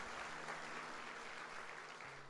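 A church congregation applauds during a Sunday service, a steady dense wash of clapping that holds at an even level from start to finish, with a faint hum underneath.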